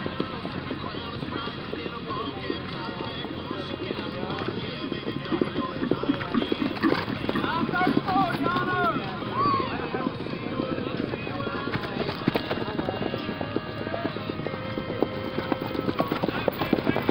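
A horse's hooves clip-clop in a steady slow rack gait, a regular four-beat rhythm on a show track in Dungannon, Virginia, with a voice speaking over it.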